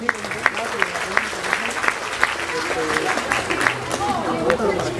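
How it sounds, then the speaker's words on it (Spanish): Applause from the audience at a municipal event in Zaachila, a local pageant presenting young women competing for a goddess title, with scattered claps over crowd chatter and talk, moderately loud and fairly steady. "Fuerte el aplauso también."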